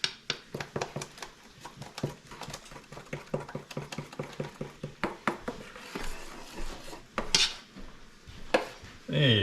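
A whisk beats pancake batter in a bowl to break up lumps, with rapid rhythmic clicking strokes against the sides, close and fairly loud, slowing and scraping toward the end.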